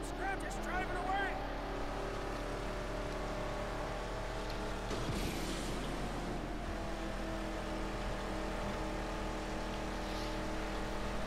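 A car engine drives away in the Mad Max video game: a steady, rumbling drone with a sudden rough burst midway, then a continuing engine note under a low background hum.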